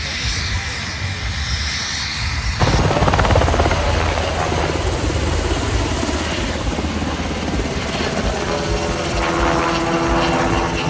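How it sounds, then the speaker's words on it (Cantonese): A US military helicopter lifts off at an open-day event on a base in Japan, its rotor wash and turbine swelling suddenly into a loud, close, continuous roar with an airy hiss over the crowd. "睇咗呢一個美軍嘅直升機升空嘅"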